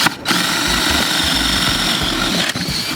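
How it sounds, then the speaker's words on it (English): A power drill bores a hole through a board set over dirt outdoors, a loud close motor whine running steadily for nearly the whole stretch with a brief dip near the start and again near the end. "I'm gonna drill my first hole here. I'm gonna drill it all the way through."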